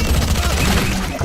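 Rapid bursts of automatic gunfire crackle loudly and continuously in a tactical shooter video game as an enemy shoots down a teammate.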